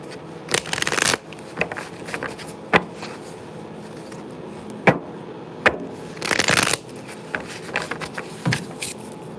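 Zodiac reading cards being shuffled by hand during a tarot-style reading, repeated papery riffles and soft slaps in irregular bursts, close and clear, with no voices.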